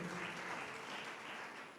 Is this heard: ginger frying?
no